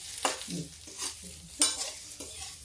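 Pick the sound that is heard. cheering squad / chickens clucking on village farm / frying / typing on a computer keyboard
frying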